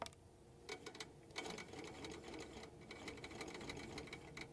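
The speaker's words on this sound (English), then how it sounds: "Place this here and quilt until this line comes to the line." A Handi Quilter quilting machine stitches along a ruler, giving a steady, rapid mechanical whir with a few brief pauses as it runs.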